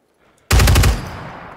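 A loud, close burst of automatic gunfire from the tactical shooter game Ground Branch, a rapid string of shots that ends abruptly and leaves a ringing tail fading over about a second.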